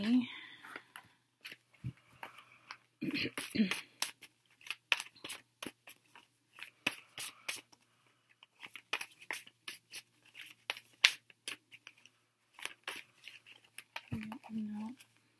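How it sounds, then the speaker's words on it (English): A tarot card deck shuffled in an unusual hand grip, giving a run of quiet, irregular papery riffles and crisp card clicks close up, with brief soft voice sounds near the start and end. "It's telling me to hold the deck this way. I don't ever shuffle this way."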